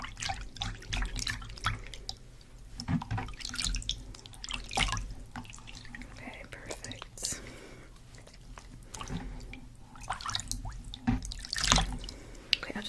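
Water trickles and drips as scrub is rinsed off hands during a close, quiet makeup roleplay, soft splashes coming and going under a faint whispered voice.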